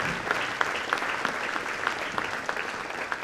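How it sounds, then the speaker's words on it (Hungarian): An audience applauds a majorette group at a summer evening wind-band concert, a dense, steady clapping with a few sharper claps standing out throughout. "Tapsoljunk meg őket"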